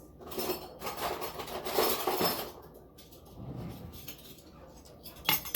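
Two metal spoons being picked up and handled in a kitchen while preparing 7-layer Italian cookies, giving a run of close, light clinks and scrapes of cutlery against dishes, with a quieter stretch of faint rattling before a final sharp clink.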